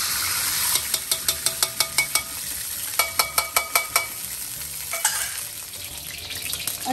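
Desi ghee heating in a large kadhai for besan barfi, a steady sizzle throughout with a series of quick regular scraping taps of a spoon against the pan in two runs.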